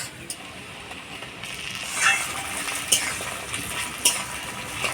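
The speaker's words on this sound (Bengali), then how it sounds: "পেঁয়াজটা হালকা লাল লাল হয়ে আসছে এবার টমেটো কুচি দিয়ে দিচ্ছি" Chopped tomatoes drop into a pan of lightly browned onions, giving a soft, steady sizzle with a few sharp clicks and scrapes from stirring.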